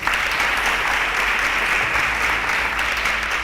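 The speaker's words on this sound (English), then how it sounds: "A round of applause for Towoju" A quiz contestant draws a dense, steady burst of applause from a studio audience, loud and continuous with no voices over it.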